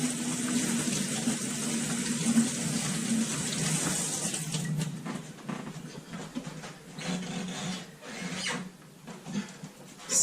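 Tap water running steadily into a kitchen sink during a hand wash while bread is baked, a close, continuous hiss with shifting splashes toward the end and no one talking.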